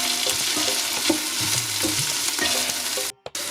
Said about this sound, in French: On démarre donc par mettre de l'huile d'olive comme ça dans le fond et on va faire revenir nos oignons